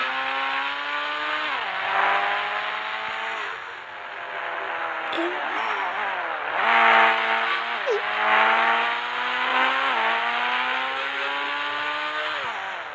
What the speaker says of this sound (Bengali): ওই এত জোরে কেন গাড়ি চালাচ্ছিস রে?